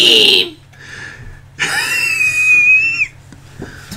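A character in Zelda: Twilight Princess lets out a short shrill cry, then a longer, wavering scream lasting over a second, with quieter whistling sounds in between.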